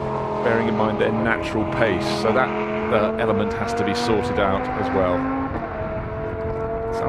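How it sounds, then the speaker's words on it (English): A Lamborghini Super Trofeo race car's engine revs as it leaves the pits at Silverstone, rising and falling engine tones in the background beneath continuous commentary. "Sounds though a car was leaving the pits remarkably late there. You could hear the engine note in the background."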